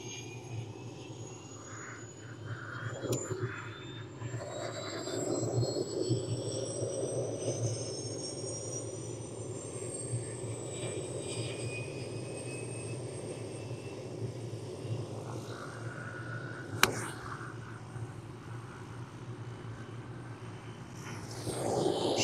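Steady droning of a helicopter overhead at a golf practice, a low rotor rumble that swells and lingers, with faint whining tones sweeping across it.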